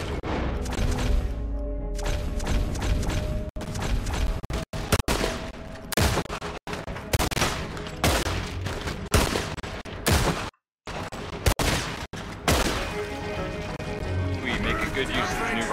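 Rifle gunfire in Red Dead Redemption 2 during a shootout, with repeated sharp shots and volleys over busy game music and effects, and characters shouting and talking throughout.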